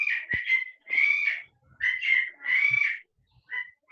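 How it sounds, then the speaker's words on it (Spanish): Pet parakeets chatter in bursts of high, warbling whistles and chirps, close by, with short gaps between calls. "creo que son mis pericos."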